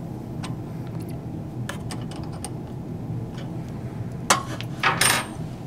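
A wrench working a nut under the injection port of a Shimadzu GC-2014 gas chromatograph: scattered small metallic ticks and clicks over a steady background hum, with a couple of louder clanks near the end.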